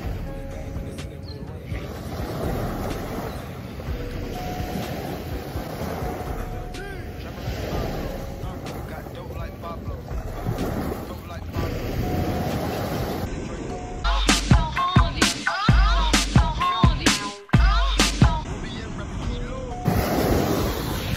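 Ocean surf rolling onto the sand at West Palm/Pompano beach, a steady broad wash of waves with wind buffeting the microphone, growing rougher and choppier in the second half.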